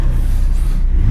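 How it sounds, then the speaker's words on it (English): A naturally aspirated Porsche GT3 RS engine revs loudly and close by, a deep, dense roar that holds steady for about a second with no talk over it. "Just rev it up."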